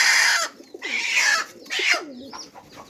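A hen gives a few close, loud clucking and crooning calls in short bursts, alone with no talking.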